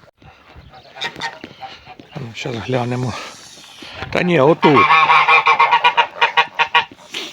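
A Mammoth goose honks loudly several times close by on a farm during egg collection, the harsh calls rising and repeating while people talk nearby.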